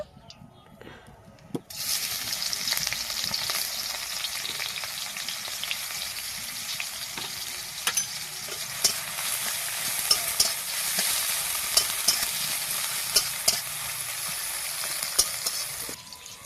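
Chopped onion sizzling in hot oil in a pan, a loud, steady hiss that starts abruptly after a quiet opening and carries on with intermittent scrapes and clicks from stirring.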